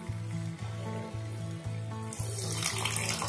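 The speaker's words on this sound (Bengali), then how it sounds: "আর আমি এরপর জল দিয়ে দিচ্ছি" Water, including thin besan batter water, poured into a hot pan while making Indian Chinese veg manchurian: a rushing, sizzling pour that swells louder toward the end over a steady rhythmic low pulsing in the background, with no talking.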